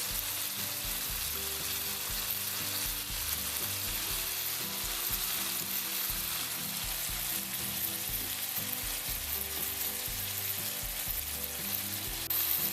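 Meatballs and cabbage fry in a pan with a steady, dense sizzle that runs unbroken and close for the whole stretch, with a few faint stirring knocks underneath and no talking.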